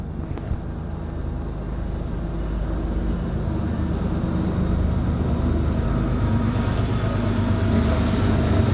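A double-stack freight train rumbles past close by in a continuous heavy roar, its wheels grinding and squealing faintly on the rails.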